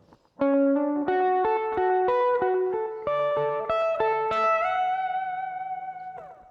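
Clean electric guitar picks a rising arpeggio, returning repeatedly to a held pedal note between climbing notes, with a light effects shimmer and a ringing final chord.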